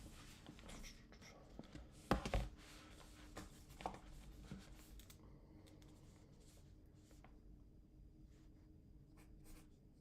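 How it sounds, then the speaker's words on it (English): Faint pen strokes scratch across paper close by, in quick bursts that taper off into quiet, with low murmuring in the background. "I'm going to write that down."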